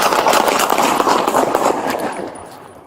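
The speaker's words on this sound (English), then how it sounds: "Shots fired." Several rapid gunshots ring out during a police encounter with a knife-wielding person, a quick cluster of sharp cracks with echoing reverberation that fades toward the end.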